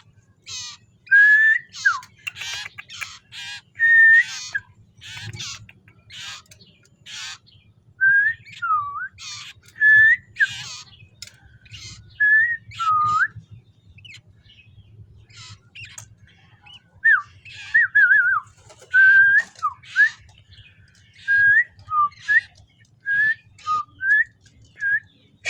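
A young common iora sings a series of bright whistled phrases and sharp chirps, close and loud, in repeated bursts separated by short pauses, over a low steady hum.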